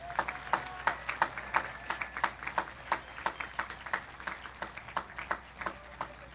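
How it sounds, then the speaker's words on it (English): An audience at a high school graduation ceremony applauds the honor graduates, scattered but steady hand claps from a moderate-sized crowd, a little distant and thin, lasting several seconds with no talking. "Please give them a round of applause."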